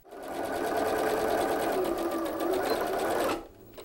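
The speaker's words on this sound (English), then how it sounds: "I'm sewing everything together the way I want it to go together" A sewing machine stitches quilt pieces for a double wedding ring pattern with tulip shapes, running steadily and close for about three seconds before stopping abruptly.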